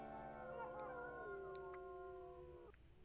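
Several coyotes in the WolfQuest video game howl together in long, wavering, overlapping cries that fill the whole stretch at close range, with no talking.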